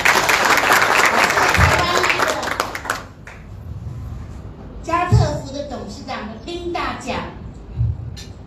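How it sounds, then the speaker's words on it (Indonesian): Audience applause at a business presentation event, loud sustained clapping from a crowd for about three seconds, then fading as a host speaks over scattered claps and murmurs. "Berikan aplaus untuk mereka berdua."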